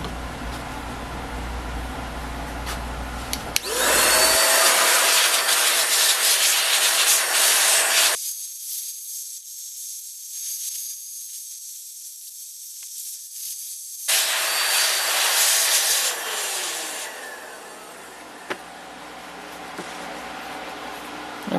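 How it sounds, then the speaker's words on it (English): A DataVac electric duster blows a strong, heated stream of air to dry a rustic wooden sign, a loud steady hiss running for several seconds, cutting off into near silence, then rushing back on. "we're going to use the DataVac electric duster. Blows a good stream of air, help it dry"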